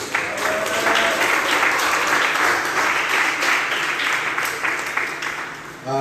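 Sustained applause from a church congregation acclaiming Jesus during a French-language sermon, steady and full for several seconds before tapering off, with a voice faintly underneath.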